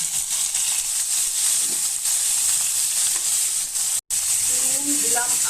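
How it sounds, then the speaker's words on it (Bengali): Onion, nigella seeds and green tomato frying in a pan for a fish curry, a continuous close sizzle with light stirring, briefly cut off near the end before a faint tonal sound. "পেঁয়াজ কাঁচা টমেটো ভাজা হয়ে গেছে"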